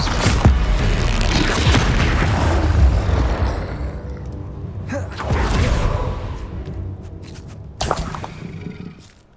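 Bombarda blasting spell cast in the video game Hogwarts Legacy: a heavy booming explosion with a rushing tail, followed by two more deep blasts a few seconds apart, loud and close.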